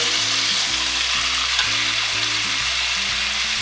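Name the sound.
ribeye steak searing in a pan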